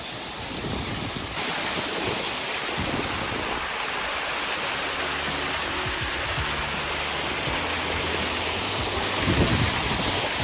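A waterfall on a mountain hike near Rosa Khutor and Aibga, seen from above at its upper stream, gives a steady, loud broadband roar that fills the whole stretch without a break.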